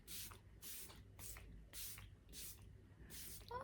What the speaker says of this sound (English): use the Tarte Shape Tape Stay Spray